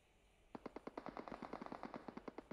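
Rapid automatic gunfire rattles in a PUBG match, a fast burst of about twenty sharp shots fired in quick succession after a brief quiet start, with no voices over it.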